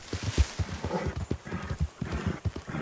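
Horse hooves galloping in the video game Red Dead Redemption II, a fast, steady clip-clop rhythm, close and prominent, with no talking over it.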